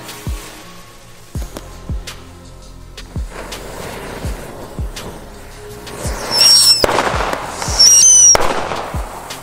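Fireworks go off in a repeated series of sharp bangs, followed by crackling bursts and whistling shots that build louder toward the end, outdoors with no talk.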